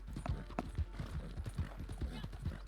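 Horse hooves clip-clopping at a steady walking rhythm in the Western video game Red Dead Online, a quiet regular series of hoofbeats with faint background sound.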